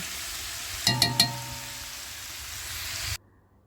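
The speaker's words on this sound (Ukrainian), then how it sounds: "накриваю кришкою і тушкую до півготовності" Eggplant and peppers frying in oil in a pan for ajapsandali, a vegetable stew: a few sharp clinks of a lid being set on, then a steady close sizzle that cuts off abruptly.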